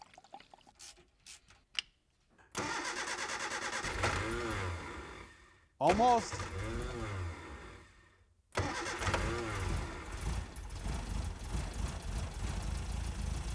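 Mini Cooper S Wagon engine starting, with a few cranking attempts, a short sputter that catches and dies, then a firm catch into a steady idle, heard up close with brief talk.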